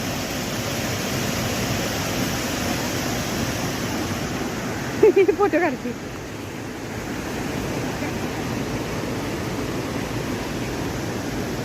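Water from a dam rushing steadily along a canal beside sugarcane fields, a constant loud broadband roar throughout, with brief laughter and a short remark partway through.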